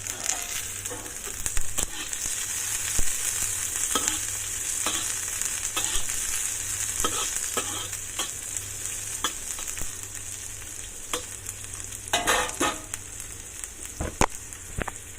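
Food frying in a pan and being stirred until golden brown gives a steady close sizzle, with repeated scrapes and clacks of the utensil breaking through, and no talking.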